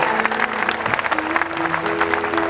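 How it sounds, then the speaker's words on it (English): An audience applauds steadily at an outdoor folk festival concert at UCLA in Los Angeles, a dense wash of many hands clapping at once, sustained and fairly loud. "I'm glad you appreciate it, but clapping won't help."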